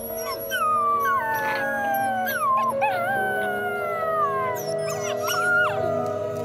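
Gray wolf pups howl in Yellowstone, several thin, wavering voices overlapping and sliding up and down, with yips and whimpers mixed in, close and fairly loud throughout.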